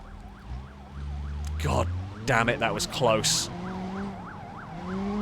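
A warbling, bubbly police siren from a vehicle in the BeamNG Drive racing game repeats steadily all the way through, while someone talks excitedly over its middle stretch.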